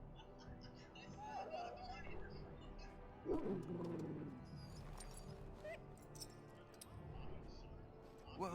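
A wounded dog in the fantasy video game Dragon Age: Origins whimpers and yips in short, plaintive bursts under steady game ambience, with a voice speaking nearby.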